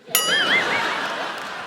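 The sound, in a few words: phone ringing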